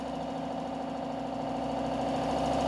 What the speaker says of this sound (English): The car's running a little 318 automatic.